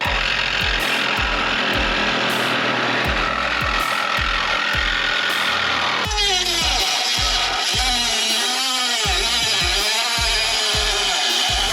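A power drill bores a 1/2 inch hole for a Jeep JL snorkel install, whining loudly and steadily up close, then shifts pitch partway through as the bit bites, with a regular ticking pulse underneath.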